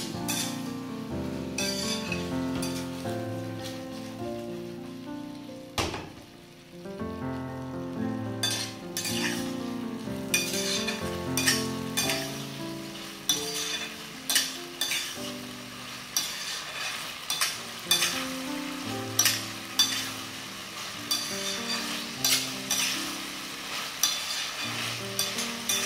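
Fish sizzles as it pan-fries in oil, with stirring and metal utensil clinks against the pan, all set under continuous background music.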